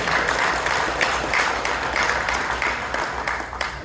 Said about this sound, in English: Give her a very rousing applause.